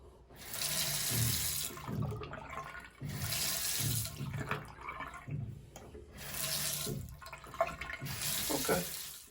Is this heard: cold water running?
yes